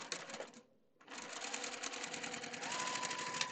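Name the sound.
sewing machine stitching a quarter-inch seam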